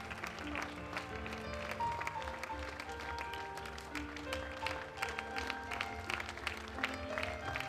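Audience at a 2021 graduation certificate ceremony applauding the 4. B class: steady crowd clapping throughout, mixed with sustained musical tones playing underneath.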